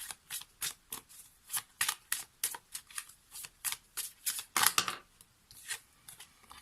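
An Oracle des Astres deck of oracle cards is shuffled by hand in quick, papery bursts, a close, crisp riffle of cards repeating in an uneven rhythm with no speech.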